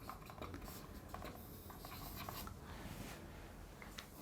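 Pen or marker writing on a surface, steady faint scratching strokes with small taps, quiet and continuous with no speech.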